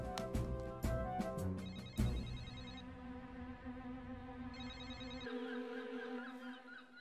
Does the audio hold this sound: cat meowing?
no